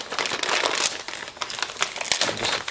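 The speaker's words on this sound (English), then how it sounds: "No, so let's start cutting this open." Plastic packaging around a set of three-tier dog stairs being cut open, heard as steady close crinkling and rustling with brief sharper snips and tearing, no talk.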